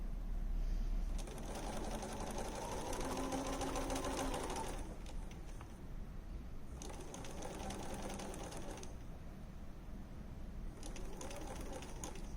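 Domestic sewing machine stitching fabric for an infinity scarf, running in several bursts of steady whirring separated by short pauses, moderately close and alone.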